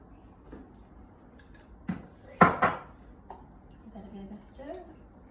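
Sourdough starter being stirred in a bowl gives a few close clinks and scrapes of a utensil against the dish, clustered in a short burst, with quiet background between.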